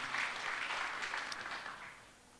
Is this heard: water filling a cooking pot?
no